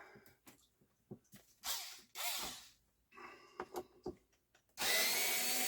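Screws are undone on a Pioneer PL-510A turntable during a full service: close, irregular clicks, scrapes and taps, with a few short whirring bursts and a longer rasping stretch at the end.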